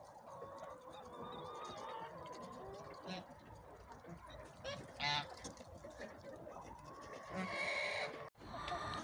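Domestic ducks and an adult grey drake call in a farmyard, with scattered quacks and honking notes over a busy, fairly faint background, and a person talks among them.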